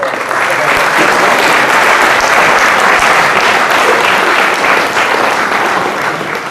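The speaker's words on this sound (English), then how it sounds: "Big round of applause." Loud, sustained applause from a sizable audience at a forum theatre performance, clapping densely and evenly for several seconds before easing slightly toward the end.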